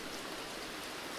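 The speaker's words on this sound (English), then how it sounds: "Are we collecting rain? We're collecting rain." Steady rain falls in the video game Press Any Button, a dense even hiss with no breaks, moderately loud and with no voices over it.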